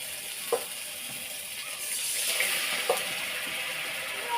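Spices hit a hot kadai after fried okra, producing a gentle continuous sizzle with a couple of light clinks from stirring.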